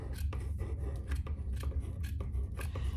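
Scissors make a rough trimming cut through fabric while sewing a zipper case, a rapid series of close snips and rasps over a steady low rumble.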